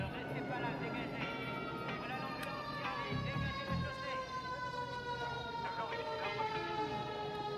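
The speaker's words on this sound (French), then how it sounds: "Voilà l'ambulance qui arrive" An ambulance arrives on a city street with its siren wailing in rising and falling glides. The siren sounds moderately distant and steady, mixed with street noise, as voices speak over it.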